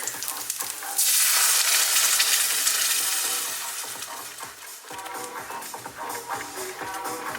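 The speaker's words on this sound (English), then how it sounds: "Once that starts to like sizzle a little bit" Loud sizzling hiss as garlic hits a hot pan, swelling early and then settling into a steady crackle with scattered pops and stirring clicks.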